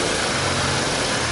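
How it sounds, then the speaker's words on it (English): A Ford 2000 diesel tractor engine running after its first start in eight years, a steady, loud, continuous drone with a low rumble and no break, heard close up. "The engine sounds pretty sweet to me,"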